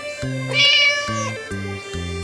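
A cartoon cat in an animated story about a tiger lets out one drawn-out, fairly loud meow, with a shorter trailing mew, over soft background music and no talking.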